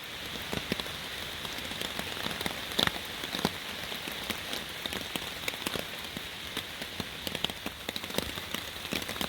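Raindrops patter steadily on a camping tarp at Red River Gorge, a soft, even sprinkle of small taps with no voices.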